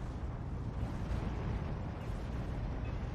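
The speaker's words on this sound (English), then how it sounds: "We do have the Calliope firing right on top of him" Calliope rocket artillery fires in the World War II strategy game Steel Division 2, a dense rumbling roar of rocket launches and impacts that holds steady and loud for about three seconds.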